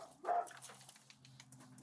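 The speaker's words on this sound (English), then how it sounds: "You can obviously hear them barking." A St. Bernard dog gives a short, muffled bark followed by softer yips and whimpers, somewhat distant and faint against a quiet indoor background.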